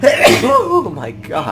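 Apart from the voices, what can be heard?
sneeze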